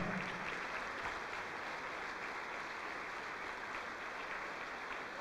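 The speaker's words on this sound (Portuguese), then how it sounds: "Vamos aplaudir, igreja." Steady applause from a church congregation during a worship service, an even, continuous patter of many hands heard at moderate distance with no voices over it.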